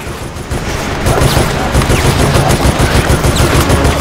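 Automatic and rapid gunfire from the video game Resident Evil: Operation Raccoon City, loud and sustained throughout in dense bursts, with a voice talking over the shooting.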